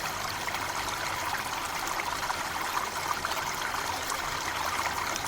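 A natural waterfall gives a steady, broad rushing roar of falling water, unbroken and even throughout, fairly close with no voices over it.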